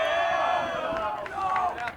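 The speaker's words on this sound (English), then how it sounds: "lot of commotion from the Motlow State bench" Rowdy shouting and commotion from the Motlow State team bench at a college baseball game, a steady wash of raised voices and cheers continuing throughout.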